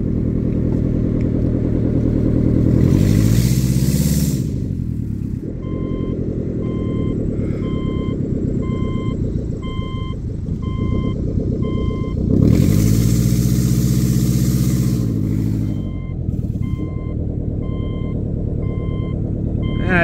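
A Subaru engine running with an open header rumbles hard and rises in two strong revs, while a steady electronic beeping repeats through the middle of the clip.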